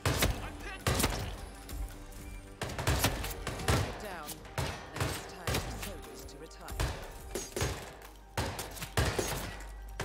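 Gunfire from the video game Hitman, a string of sharp loud shots spaced irregularly over game music and effects, with voices talking between the bursts.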